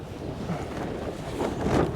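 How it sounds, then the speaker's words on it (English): Strong gusting wind of around 20 miles an hour buffets the microphone on Fur Tor, a Dartmoor tor, as a continuous low rumbling roar that surges louder near the end. "oh, it's quite windy up here. It's gusting upwards of 20 miles an hour."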